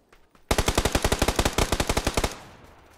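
An M249 machine gun fires in PUBG as a fast, loud burst of around twenty evenly spaced shots lasting nearly two seconds, followed by a brief fading tail.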